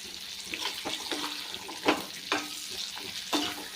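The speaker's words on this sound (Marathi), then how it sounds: "तर वांगी एक पाच मिनटं आपण चांगली तळून घेऊया म्हणजे परतून घेऊया" Stuffed brinjals, stalks left on, fry in a pan while being stirred: a continuous close sizzle broken by rhythmic scraping strokes of the spatula every second or so.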